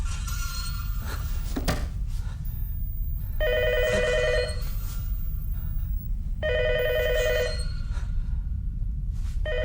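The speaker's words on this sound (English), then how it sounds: "unless your phone starts ringing right about now" An old-style telephone bell rings in repeated bursts, three long trills separated by gaps, loud and close over a steady low hum.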